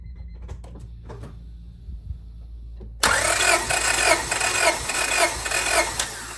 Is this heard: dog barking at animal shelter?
no